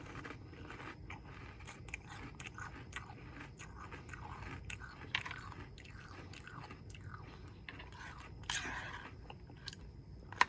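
Close, repeated crunching and chewing of Dulce de Leche Toast Crunch cereal, with many short crisp bites spread across a quiet room.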